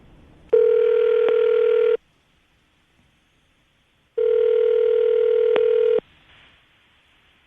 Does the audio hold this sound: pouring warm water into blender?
no